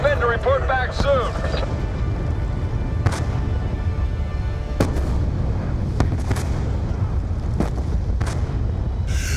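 Mortar fire in Call of Duty Black Ops 2 booms at irregular intervals, about six sharp blasts over a low battlefield rumble, with a voice briefly speaking at the start.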